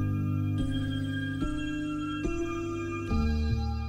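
A chopped vocal pluck sample from Splice, processed with dimension expander, reverb, OTT, chorus and EQ, plays together with a sustained piano in a track intro, with sharp new attacks roughly every 0.8 seconds over a steady, dense tone.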